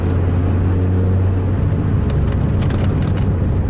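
A 2002 Dodge Viper RT/10 with a rear-exit exhaust runs its V10 engine with a deep, loud, steady rumble and a strong low drone, the note roughening slightly partway through.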